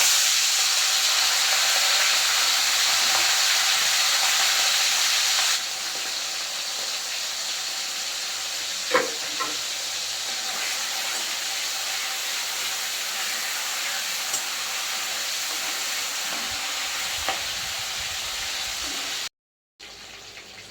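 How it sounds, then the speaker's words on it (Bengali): Salted, turmeric-coated large prawns frying in hot oil, a steady close hiss and sizzle that runs throughout, with a few faint clicks and a brief drop near the end. "এবার তেলটা গরম হয়ে গেছে, আর আগের থেকে নুন হলুদ মাখিয়ে রেখেছিলাম চিংড়িগুলোতে। এবার ভেজে নেব।"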